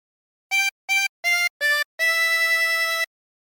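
A 16-hole tremolo harmonica plays a Jingle Bells phrase: four short, wavering reedy notes, then one long held note, clear and close with no other sound.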